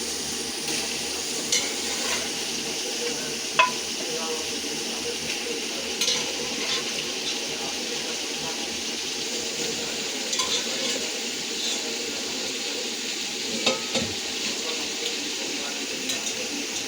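Mutton fries with browned onions in a pot for biryani, giving a low continuous sizzle with occasional soft scrapes and clinks as it is stirred.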